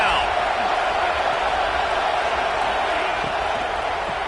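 Dense, steady roar of a football stadium crowd cheering on the home defense before a second-down play, loud and sustained throughout with no clear peaks.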